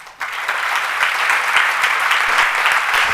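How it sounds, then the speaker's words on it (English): An audience claps loudly and steadily at the close of a motivational talk at a women's organisation event in Chennai, a dense sustained round of applause with no talking over it. "A huge round of applause once again, ladies."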